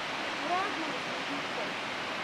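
A tiered waterfall in Australia pours steadily over several drops, giving a continuous broadband rushing roar, heard from a distance and fairly faint, with no other sounds standing out.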